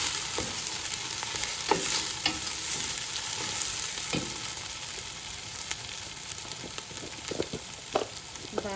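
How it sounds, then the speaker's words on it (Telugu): Ginger garlic paste fries in hot oil with fried onions, a continuous close sizzle broken by repeated scraping strokes of a spoon stirring the pan. "అల్లం వెల్లుల్లి పేస్ట్ వేసి బాగా కలుపుదాము. పచ్చివాసన పోయేదాకా వేయించాలి."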